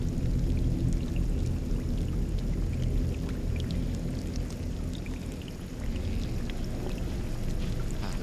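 Water flowing steadily near a lake in the game Scanner Sombre, a constant, full rushing pour with scattered droplet splashes, continuous and close with no voices.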